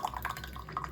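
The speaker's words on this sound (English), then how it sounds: "so I'm just gonna quickly pour this" Brewed raw puerh tea being poured off from a brewing vessel, a short, close trickle of liquid with small splashy drips.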